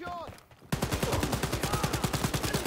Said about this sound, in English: Oh boy, that's bullets.